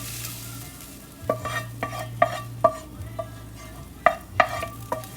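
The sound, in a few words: ingredients dropped into an oiled baking pan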